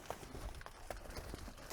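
Horse hooves thud at a jog along a bush track, a soft, steady rhythm of muffled beats heard close under faint ambient noise.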